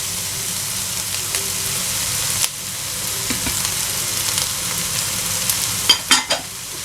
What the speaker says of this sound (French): mélanger avec l'ail aussi.